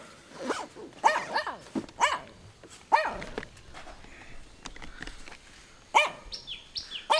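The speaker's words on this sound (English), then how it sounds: "Right, let's leave these ferocious dogs behind." Small dogs bark on a roadside in Chiang Mai with sharp, high, close yaps in bursts, several in the first three seconds and more near the end, and birds chirp faintly behind them.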